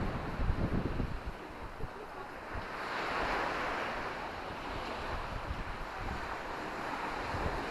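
Ocean waves wash onto the beach at Felixstowe, England, a continuous rushing surf with a swell in the middle, buffeted by strong wind noise on the microphone.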